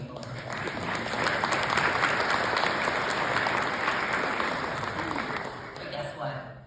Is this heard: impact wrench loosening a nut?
no